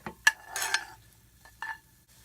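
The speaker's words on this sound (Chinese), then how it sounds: "炒蔬菜" Onions and green onions stir-fried in a pan, heard as a few short, close scraping and sizzling bursts separated by quiet gaps.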